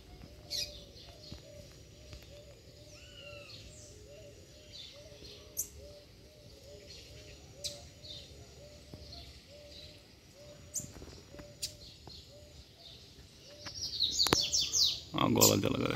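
A female bird calls in short, faint chirps and coos scattered across a quiet outdoor scene, with distant tweets and a burst of louder rustling and handling noise near the end.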